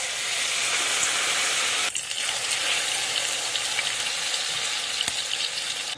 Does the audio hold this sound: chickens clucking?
no